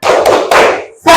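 A group joins in the rhythmic 'tepuk semangat' spirit clap, a few sharp, close, hand claps in a quick pattern with short gaps between bursts.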